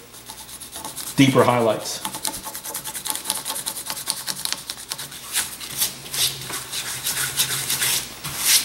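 Hand rubbing over a glass-fibre reinforced concrete surface to bring out a tarp texture, a close abrasive scrubbing that starts abruptly and continues as a steady rasping stroke pattern, with a brief spoken phrase.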